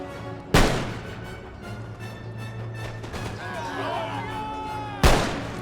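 Artillery guns firing in the Empire Total War strategy game, two sharp booming blasts several seconds apart over a low battlefield rumble, with some faint voice-like sound in between.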